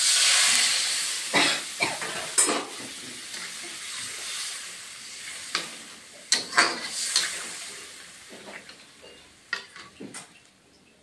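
Water is poured into a hot pan of Bengali mustard egg curry and sets off a loud, hissing sizzle that fades over a couple of seconds. Soft clinks and ticks of utensils follow over a quiet simmer.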